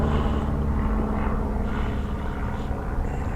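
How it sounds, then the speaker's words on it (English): Low, continuous roar of airplanes passing overhead fills the whole stretch, a steady droning rumble with no talk over it. "Sorry for the planes, can't control that"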